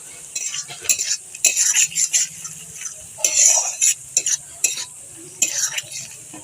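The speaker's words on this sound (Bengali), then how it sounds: "এবার মশলাটা ভালো করে ভেজে নেব" A spice paste with soft hog plums, for a pangas fish curry, is stirred in a pan, with repeated scraping and clinking of a spoon against metal over a low sizzle, in short irregular bursts.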